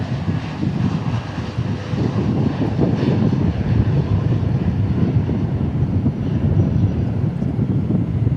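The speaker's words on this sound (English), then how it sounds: "Here is a Frontier A320neo from Phoenix Sky Harbor." Frontier Airbus A320neo jet at DFW airport, a loud steady engine roar with a broad low-frequency rumble that builds slightly and holds for several seconds, no talking.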